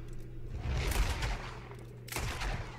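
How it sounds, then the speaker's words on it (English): Gunfire in Red Dead Redemption 2, a burst of heavy shots around the first second and another rapid volley near the end, loud and close over a low background hum. "He's gonna take out his gun and kill him."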